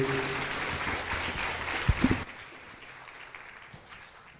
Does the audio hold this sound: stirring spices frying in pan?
no